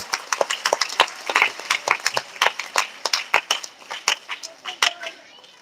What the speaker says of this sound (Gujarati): આપણા ઠાકર જોરદાર તાળીઓથી વધાવીએ